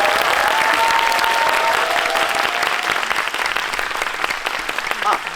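An audience applauds at a film screening event for Netflix's Carter, with dense clapping from a full room that fades slightly toward the end.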